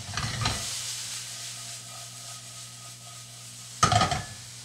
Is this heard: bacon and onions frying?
yes